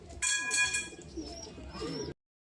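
Pigeons coo softly nearby, overlapping throaty calls with some brighter chirps mixed in, ending abruptly.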